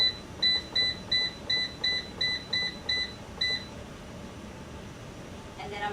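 Ten evenly spaced, sharp electronic beeps come from the buttons of an electric pressure canner as its timer is set for canning zucchini, close and clear over a faint background hiss.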